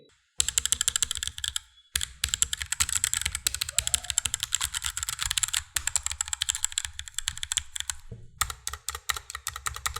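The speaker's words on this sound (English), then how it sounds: "you can hear the sound of this keyboard here" Rapid, clacky keystrokes typed on a wireless mechanical RGB keyboard, close and continuous with a few short pauses between bursts.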